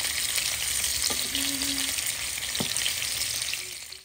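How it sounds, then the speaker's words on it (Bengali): Marinated sarputi fish frying in oil in a home kitchen, a steady close sizzle throughout with a couple of brief utensil clicks, no voices. "তো 10 মিনিট ম্যারিনেশনের পর মাছগুলো ভাজা হয়ে যাচ্ছে"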